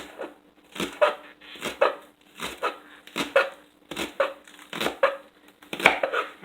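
A knife slices vegetables on the bias on a cutting board, making a steady series of sharp, evenly spaced chops about one per second, close and distinct with no speech.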